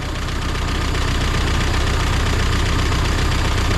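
An 80-year-old Willys Jeep CJ2a engine idles steadily after sitting for years, a loud close rhythmic chugging with an even knocking pulse and constant level, no talking.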